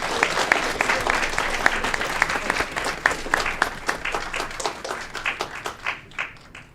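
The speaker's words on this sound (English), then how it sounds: "Another round of applause for Pastor Zimmerman." Applause for Pastor Zimmerman at an Aurora City Council meeting, close and fairly loud clapping from a modest gathering with individual sharp claps, thinning out and fading to a few scattered claps near the end.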